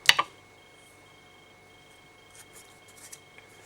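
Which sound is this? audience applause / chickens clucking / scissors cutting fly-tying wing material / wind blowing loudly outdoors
scissors cutting fly-tying wing material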